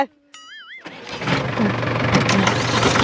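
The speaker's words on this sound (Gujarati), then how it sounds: "ટ્રેક્ટર વાળા ગમે એ થાય ટ્રેક્ટર બંધ ન કરતો" A tractor engine cranks and catches, then settles into a loud, rough diesel rumble, preceded by a brief warbling electronic tone.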